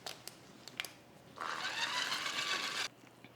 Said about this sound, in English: Now we're just going to be whisking until everything is nice and stiff.